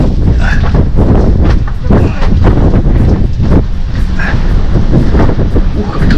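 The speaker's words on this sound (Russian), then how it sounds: "Ух, как тут ветер дует такой." Strong wind buffets the microphone outdoors on the hills of the southern Golan near old Syrian artillery positions, producing a loud, continuous, gusty rumble and roar that dominates the scene.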